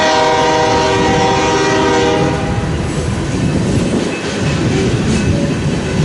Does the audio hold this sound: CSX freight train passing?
yes